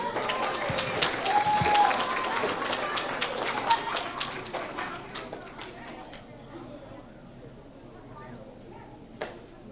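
Applause from a room full of people at a fifth-grade awards ceremony, strong at first and gradually thinning out to scattered claps, with some chatter in the background.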